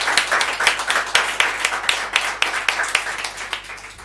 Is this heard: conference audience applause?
yes